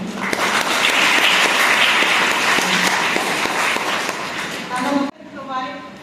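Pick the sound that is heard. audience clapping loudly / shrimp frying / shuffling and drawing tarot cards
audience clapping loudly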